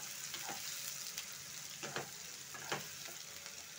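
Onions frying in a kadai with cumin seeds and bay leaf, a continuous dense sizzle with occasional scraping stirs of a spoon against the metal, no voices.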